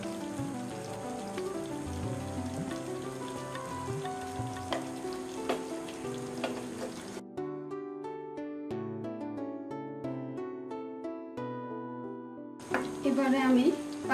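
Chicken roast crackles and sizzles in ghee in a pan, a dense, rain-like spatter that gives way to a stretch of gentle melodic music before the frying returns near the end.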